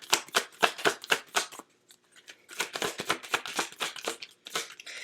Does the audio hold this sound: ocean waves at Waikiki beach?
no